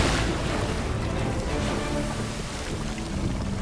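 Ocean surf around a sailing ship in a film scene, a broad washing roar with gusty wind noise that swells at the start and eases, steady and fairly close, no voices.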